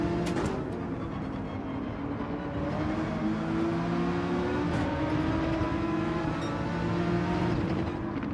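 Subaru BRZ engine in Gran Turismo 7, a steady droning hum with shifting pitch as the car drives, continuous and fairly loud with no talking.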